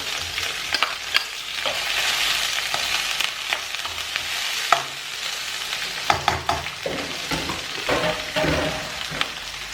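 Prawns hitting a hot pan with pepper, scotch bonnet and onions for coconut fried rice, a loud continuous sizzle close up with scraping stirs and clattering spatula knocks throughout.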